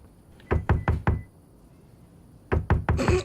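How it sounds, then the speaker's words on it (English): Knocking on a door in The Book Walker: Thief of Tales video game: two crisp sets of four rapid knocks, close and loud, separated by a short silent gap. "Knock, knock. Who's there?"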